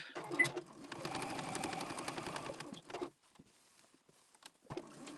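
A sewing machine runs steadily for about three seconds, stitching points of stars on a patriotic tea towel, then stops, leaving near-silence with a few faint handling sounds.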